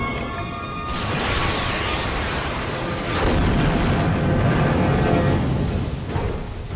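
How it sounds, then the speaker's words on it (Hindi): A target blows up in a loud, sustained blast of broadband rumble and debris noise lasting several seconds, swelling again midway with no voices. "अब मैं अगला टारगेट उड़ा रहा हूं।"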